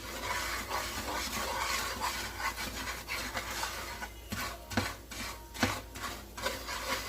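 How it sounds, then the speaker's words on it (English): Fried steak bits are scraped off the bottom of a pan while making chicken fried steak gravy, a steady close rasping and rubbing with a few sharper knocks toward the end, moderately quiet and without talk. "So now I'm scraping all the goodness off the bottom."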